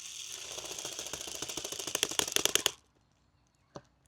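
A compact electric airsoft speed loader feeds BBs into a VFC SCAR magazine with a rapid mechanical ratcheting clatter that grows louder and quicker for under three seconds, then stops, followed by a single sharp click.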